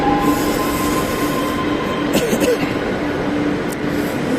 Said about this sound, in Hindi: ये मेट्रो आ गई, दोनों मेट्रो आ गई।